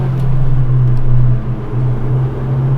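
A Japanese-market Honda Civic Type R EK9 under hard acceleration, its engine holding a steady droning note that drops briefly as if between gear changes, heard loud and close from inside the car with no talking.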